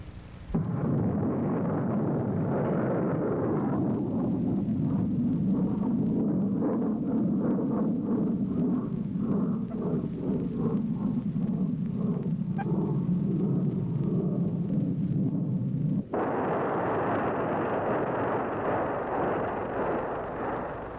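An Army Hawk surface-to-air missile launches at White Sands Missile Range in 1963, a loud sustained rocket roar and rumble lasting many seconds, shifting to a harsher hiss near the end, with no voices.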